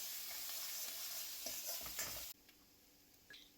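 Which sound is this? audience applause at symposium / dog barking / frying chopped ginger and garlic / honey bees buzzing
frying chopped ginger and garlic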